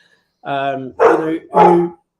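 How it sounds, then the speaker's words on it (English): A dog barks three times in quick succession, loud and close by, each bark a full-throated, drawn-out woof with short gaps between them. "that's my dog who agrees"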